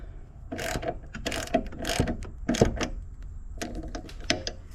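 A ratchet snugs up bolts on a KEIHIN fuel pump for a Kawasaki Ninja and KTM 690, giving close, rapid bursts of clicking in short repeated strokes.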